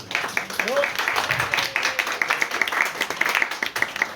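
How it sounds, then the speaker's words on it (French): Audience applause at a literary conference on women's crime fiction, a steady patter of clapping hands that fills the room, with a faint voice briefly heard beneath it. "On peut les applaudir également."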